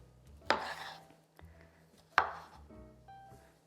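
Cherry tomatoes are cut on a board with two sharp, distinct knife chops about two seconds apart, close and crisp, with quieter taps and a faint ringing tone between them.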